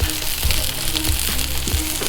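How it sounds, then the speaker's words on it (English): Italian sausage dogs sizzle loudly in olive oil on a Blackstone griddle, a dense, steady hiss of frying broken by a few low pops. "Hear the sizzle."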